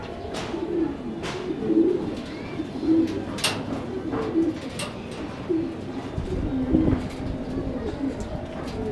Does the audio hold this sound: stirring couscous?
no